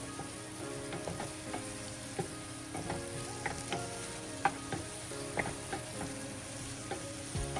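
Ingredients for kadai paneer fry in a pan over fairly high heat, giving a steady nearby sizzle with repeated light scraping and clinking of stirring at an uneven rhythm, no speech.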